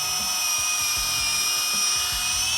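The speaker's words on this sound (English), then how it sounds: "Okay, we've pre-drilled our hole," A power drill pre-drills a screw hole, producing a continuous high-pitched motor whine that stays steady and fairly loud through the whole clip, with some low rumbling handling noise underneath and no speech.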